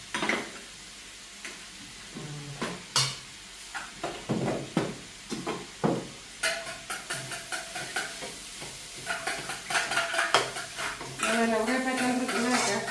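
Bread kottu is stir-fried in a pan in Jaffna style, with a metal spatula clinking, knocking and scraping against the pan over a soft sizzle. A voice speaks briefly near the end.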